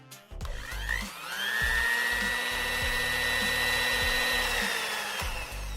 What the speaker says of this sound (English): Let's grind all these ingredients together.